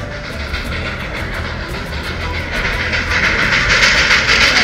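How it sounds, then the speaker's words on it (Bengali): A Darjeeling steam train approaches on the Batasia Loop, its loud steady rumble building with a rapid rhythmic chuffing pulse throughout. "ওই একটা ট্রেন আসছে"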